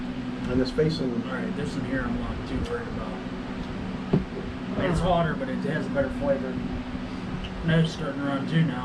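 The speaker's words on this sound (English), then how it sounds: "I got a big torpedo fan sitting there on the floor." A big torpedo fan runs on the floor, giving a steady, broad whooshing hum in the background under close, continuous talking.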